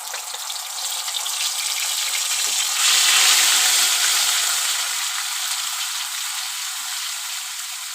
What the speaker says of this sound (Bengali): এখন আমি ওই তেলের মধ্যেই মশলা দিয়ে দেবো পেঁয়াজ রসুন আদা টমেটো বাটা